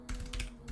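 Computer keyboard keys tapped in a few quick, close strokes, soft and near, with no voice over them.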